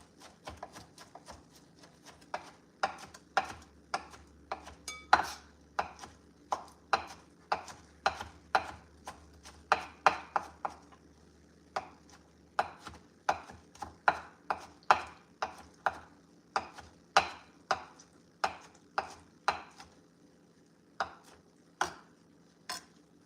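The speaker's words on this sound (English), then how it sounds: "Getting these chopped up." Bananas being chopped on a cutting board for a dessert, a long run of crisp, fairly regular knife taps with brief pauses, close and clear with no talking.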